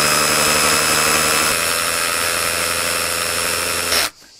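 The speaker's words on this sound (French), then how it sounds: "Alors, on va faire un trou dans de la pierre en perfo." A cordless rotary hammer bores into stone, giving a steady, loud, dense mechanical roar with a hammering buzz that runs unbroken for about four seconds and then cuts off abruptly.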